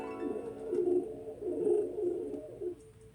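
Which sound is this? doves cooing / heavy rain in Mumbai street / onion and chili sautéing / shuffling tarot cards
doves cooing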